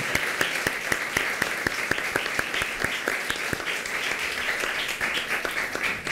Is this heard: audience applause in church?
yes